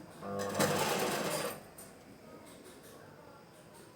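An electric sewing machine stitches fabric in a brief fast burst of rapid mechanical clatter, close and fairly loud, then stops, leaving quiet room noise.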